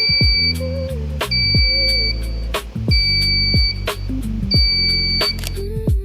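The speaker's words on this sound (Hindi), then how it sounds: "जो भी डिस्टेंस आप सेट करोगे उसके बाहर जाते ही अलार्म बीप करने लगेगा।" Repeated electronic beeps from a DIY UWB location tracker alarm built on an RYUW122 Lite module and ESP32, sounding in short bursts over a busy background of low tonal hum and sharp clicks throughout.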